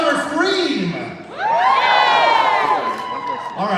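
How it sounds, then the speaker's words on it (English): Convention crowd at a Knott's Scary Farm panel during Midsummer Scream 2019 cheers, whoops and shouts loudly, a dense roar that builds and holds for several seconds, with a host's voice audible at the start. "give it up for Knott's Scary Farm's own Jeff Tucker."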